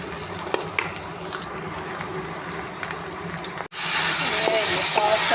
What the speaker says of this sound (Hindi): ये भी साथ साथ फ्राई करेंगे इसके अंदर।